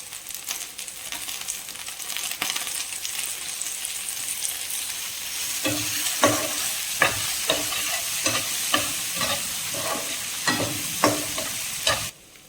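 Chopped tomatoes fry with onions in a pan for a spicy chutney, a continuous close sizzle that grows busier halfway through as a spoon clacks and stirs in a quick irregular rhythm, without talk.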